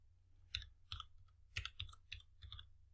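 Typing on a computer keyboard, a quiet, close run of irregular key clicks in small bursts with short pauses between them.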